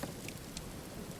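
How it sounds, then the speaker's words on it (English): Steady rain falling in the survival game Rising World at night, a continuous soft hiss of drops with faint scattered patters, no voices. "I don't actually know if the rain stops underneath here"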